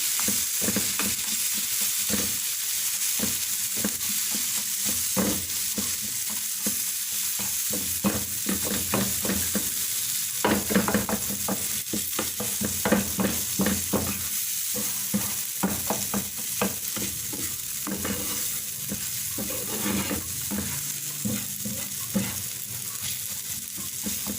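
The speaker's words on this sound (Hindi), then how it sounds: "अब इनको इसमें ऐसे तोड़ लेंगे, साथ साथ मसाले भी बीच में मिक्स हो जाएंगे" Shami kebabs are broken up in a frying pan and stirred with spices, giving a steady sizzle with repeated scraping and tapping strokes of a spatula, close and loud, with no voices.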